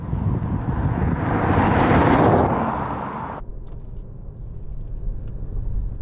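A Honda e electric car climbs a winding mountain road, giving a steady road rumble with tyre and wind noise that swells, then drops to a quieter low hum about halfway through.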